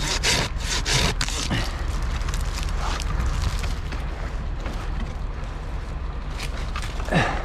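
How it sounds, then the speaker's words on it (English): Handsaw cutting through a tree limb up in a tree, with loud rhythmic rasping strokes close by that keep a steady back-and-forth pace throughout, and no voices. "It's an awkward cut with a handsaw."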